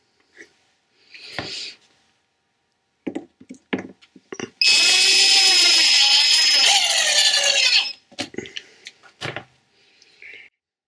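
A power tool drives screws while upgrading a 2009 iMac: a sustained, close whirring burst lasting about three seconds, framed by scattered clicks, taps and handling noises in an otherwise quiet room.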